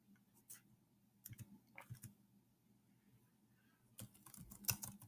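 Typing on a Chromebook keyboard, faint scattered key clicks in short bursts with pauses between, quiet and close with no voices.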